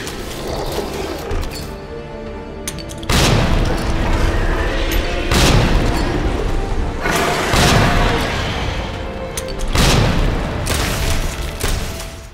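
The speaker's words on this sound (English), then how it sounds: "fire one needle cartridge into his chest, followed by 4 hand grenades" Hand grenades exploding one after another in the Resident Evil 2 boss fight, loud repeated booms at roughly two- to three-second intervals over a dense game soundtrack, with some talk underneath.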